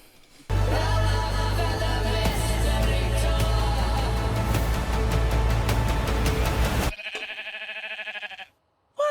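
Sheep bleating loudly and close, a sustained wavering call that dominates for several seconds before cutting off, followed by a brief quieter electronic tone and a short silence.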